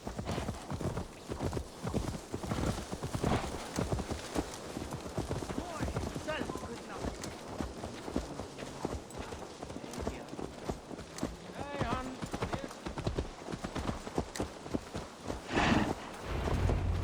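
Horse hooves walking in the video game Assassin's Creed Valhalla, a steady run of close clip-clop beats all the way through, with game voices speaking over them.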